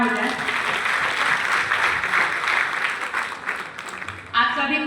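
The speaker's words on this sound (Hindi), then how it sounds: "तो एक बार सर के लिए जोरदार तालियां हो जाए।" Applause from an audience at an RCM stage event honoring a speaker, a dense, steady clapping that fades slightly before a fresh burst near the end.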